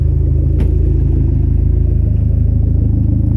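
A Dodge SRT-4 engine idles with a deep, loud, steady rumble through its exhaust, the QTP electric cutout kept closed, heard up close with a brief sharp click early on.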